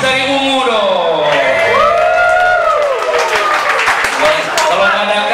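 Live concert crowd in Makassar applauding and cheering for a band member, loud continuous clapping with whoops and shouts, voices rising in excited calls close and full throughout.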